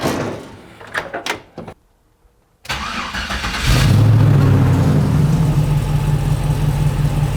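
Clicks and clunks, then a pause before an LS V8 engine in a Squarebody C20 truck with Holley EFI cranks and catches, settling into a loud, steady rumbling idle up close.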